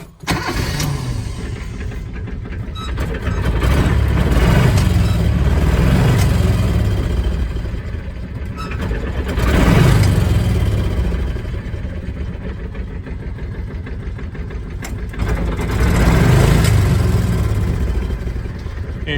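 A Kawasaki Mule 2510 utility vehicle's engine idles cold after a sticking-throttle repair, running steadily close by with a faint hesitation, swelling louder in three slow surges.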